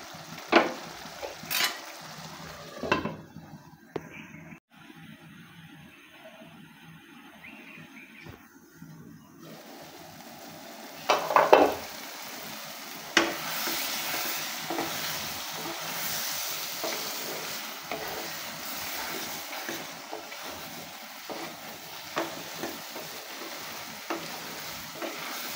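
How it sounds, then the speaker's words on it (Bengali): Chickpea dal and beef fry together in a pot, a close, steady sizzle broken by spoon scrapes and clanks, with a quieter stretch partway through and louder stirring clatter near the middle, and no speech. "তো বন্ধুরা, ডালগুলো দেওয়ার পর এখন নেড়েচেড়ে খুব ভালোভাবে আর একটু কষিয়ে নিচ্ছি।"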